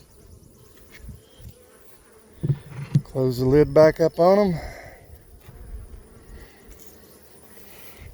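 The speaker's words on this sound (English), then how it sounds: "Those are mostly nurse bees" A dense hum of honeybees, mostly nurse bees, buzzing close by on an open hive frame, with a brief person speaking partway through over the steady drone.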